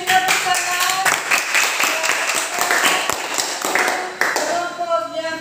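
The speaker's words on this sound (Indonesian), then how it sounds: "Terima kasih, tepuk tangan." Classroom applause from students during a practice teaching lesson, brisk overlapping clapping from a small group close by, steady throughout with some chatter mixed in.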